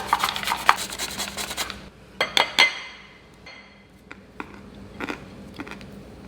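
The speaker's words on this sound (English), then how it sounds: "I'm going to grate just a little bit of carrot and add it to the bersha" A carrot rubbed against a kitchen grater, giving a few bursts of close, dry rasping strokes separated by pauses, with light clinks of the grater.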